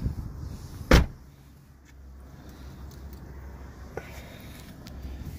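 A sharp, loud latch clack marks the passenger door of an AMG car opening, followed by a softer thump and faint rustling inside the cabin over low background hum.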